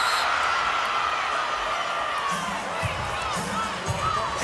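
A crowd cheers at a LOVB professional volleyball match between Houston and Austin, a sustained roar of voices and whoops that fills the space. Lower voices rise and fall beneath it.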